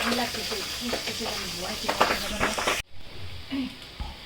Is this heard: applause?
no